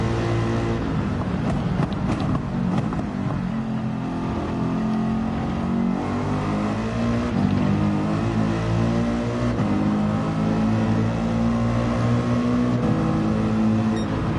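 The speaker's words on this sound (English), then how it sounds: "It revs up real quick" A race car engine in Gran Turismo 7 revs hard and climbs quickly through the gears, a loud, continuous engine roar with rising and falling pitch across the whole stretch.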